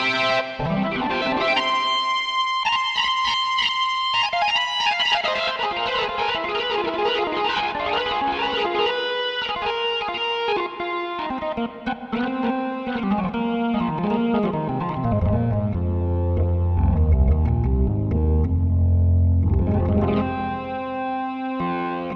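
A restored, customised Hammond XB-1 organ plays sustained chords and runs with reverb set to full, washing the notes together, ending in a deep rumbling swell and a bright final chord.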